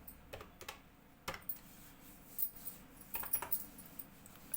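Quiet bursts of computer keyboard typing, with clusters of light key clicks coming in short irregular runs over a faint background hum.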